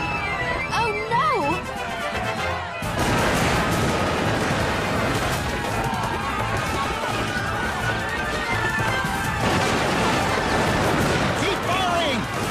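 Musket volleys crackle through a cartoon battle scene at the North Bridge, a dense wash of gunfire and commotion running throughout with a sharp surge partway in, while voices shout commands over it.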